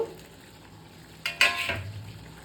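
Chicken and pre-fried potatoes tip into a hot pan of cooked-down spice paste, a brief clatter and scrape of stirring followed by a soft sizzle, close and fairly quiet.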